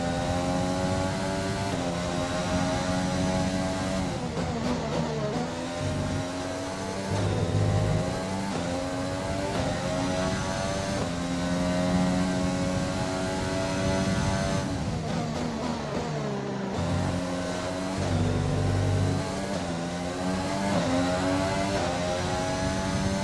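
A Formula 1 race car engine howls in the F1 2020 video game, a loud, sustained high-pitched whine that rises and falls through gear shifts and corners with no voices over it.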